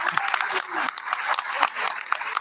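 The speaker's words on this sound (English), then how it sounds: "Let's give Flipboard a round of applause" A packed room gives Flipboard a round of applause, close and uneven clapping with scattered sharp hits, while voices talk over it.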